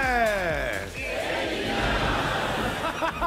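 A studio audience at the final of a French TV quiz show breaks into sustained applause and cheering for the contestant Emilien, following a brief falling musical sweep.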